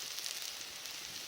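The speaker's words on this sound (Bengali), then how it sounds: "যে আমার পেঁয়াজটা দেখো লাল লাল করে ভাজানো হয়ে গেছে। এবার এখানে মশলা অ্যাড করবো।" Fried onions keep sizzling softly in a pan as cumin powder, chili powder and ginger-garlic paste go in. A continuous low hiss ends in a sharper, louder burst.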